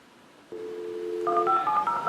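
A series of telephone dialing tones: one steady tone, then a quick run of DTMF key beeps, close and clear with no talking.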